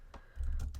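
A few quick computer keyboard keystrokes typing a short command, soft clicks close by in a quiet room, lasting under a second.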